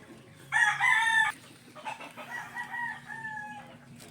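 A rooster crows loudly nearby, then laying hens and broodhens cluck and murmur in a looser, quieter stretch afterward.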